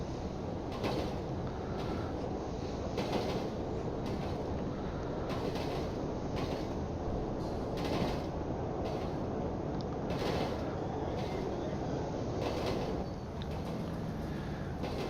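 Metro train running in GTA V, a modded four-carriage train giving a continuous rumbling, rattling roar with rhythmic clacks and creaks throughout, steady and fairly loud with no talk.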